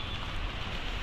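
Soft, steady hiss of rain falling, a continuous even wash of noise with no voices.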